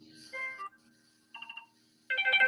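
A smartwatch made for seniors plays sample ringtones: three short melodic electronic tone bursts, the last the loudest, separated by quiet gaps.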